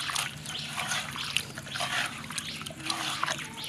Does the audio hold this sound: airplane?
no